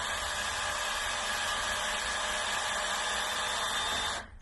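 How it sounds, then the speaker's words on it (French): A motorized thread rolling machine runs steadily as it threads a bicycle wheel spoke, its rollers coated with cutting oil, giving a continuous whirring hum at even loudness before stopping abruptly near the end. "mis un petit peu d'huile de coupe sur les rouleaux et on va pouvoir fileter."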